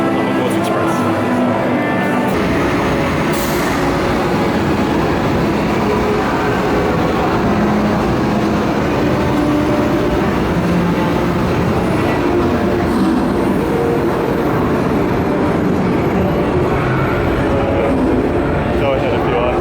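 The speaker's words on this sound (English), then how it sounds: "should enjoy the train, the Hogwarts Express" Hogwarts Express train ride at Universal Studios, a continuous loud rumbling rail roar with rattling carriage noise throughout, heard from on board, with voices talking over it.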